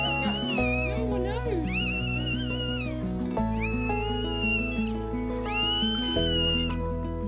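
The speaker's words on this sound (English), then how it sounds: "A newborn puppy's cry is so precious." Newborn puppies cry in a vet clinic with high, wavering squeals and whines repeating in quick succession, loud and close over a steady background, with people talking nearby.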